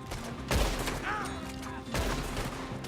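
Gunfire in the video game Red Dead Redemption 2 cracks out in two loud bursts amid a dense mix of game ambience and voices talking.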